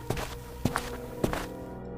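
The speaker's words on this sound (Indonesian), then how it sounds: "Suara langkah kaki semakin dekat, membuat mereka merinding sampai ke tulang." Slow footsteps approach in a horror bedtime story about a pocong under the bed, three distinct thudding steps spaced about half a second apart over a low, steady background hum.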